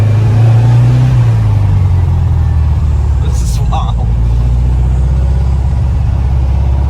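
A restored 1964 Volkswagen Beetle with an 1835cc motor and lowered stance accelerates on the road, its engine a loud, steady low drone that rises slightly while someone speaks briefly over it.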